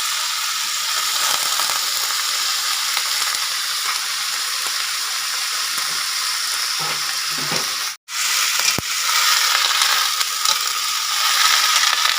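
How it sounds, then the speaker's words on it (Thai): Pork belly sizzles steadily as it is stir-fried with Chinese kale in a hot pan, a continuous loud frying crackle with a brief clatter and pause as the greens go in, then the sizzle resumes. "ผัดหมูสุกแล้ว ใส่คะนาลงไปครับผม"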